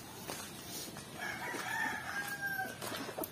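A fighting-breed rooster crows once in the middle distance, a long rising-falling call over quiet outdoor background noise.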